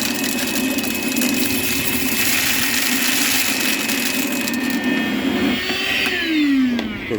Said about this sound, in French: ce que je fais, c'est que j'ai une balayeuse